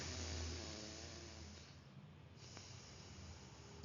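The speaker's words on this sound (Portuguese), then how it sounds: "Inspira pela direita, expira pela esquerda" Alternate nostril breathing, a slow nasal inhale through one side followed by an exhale through the other, soft and close with a breathy, snort-like rush of air.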